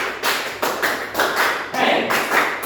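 A group of adults claps in unison to a counted pattern, sharp collective claps landing in short clustered bursts with small pauses between, close and fairly loud with a bit of vocal cheering.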